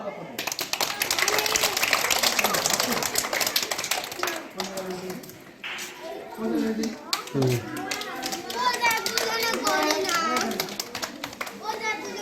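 Schoolchildren at gymnastics training clap their hands in a burst of sharp, scattered claps that fades into children's chatter and an adult voice speaking.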